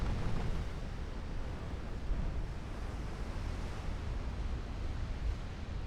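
Naval gunfire and shell impacts in Ultimate Admiral Dreadnoughts, heard as a dense, continuous low rumble of distant booms blending together under steady ocean-like noise.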